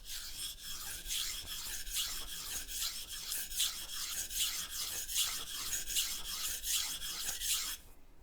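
A soft steel knife blade is sharpened on a stone with rhythmic, close rasping strokes, about a dozen evenly paced passes that stop just before the end.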